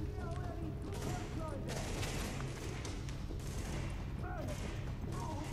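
Gunfire and explosions fill a tense multiplayer firefight in The Division, with a shotgun among the weapons, forming a continuous dense barrage of shots and booms under muffled voices.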